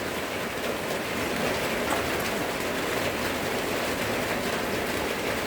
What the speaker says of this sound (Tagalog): Ulan na po kusog eh.